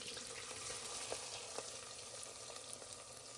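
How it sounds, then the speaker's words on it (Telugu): Chilies and onions frying in hot oil with cumin seeds in a home kitchen, a continuous crackling sizzle with occasional pops and stirring, close and steady, no voices. "మనం బ్రౌన్ అయ్యేదాకా ఫ్రై చేసుకోవాలి"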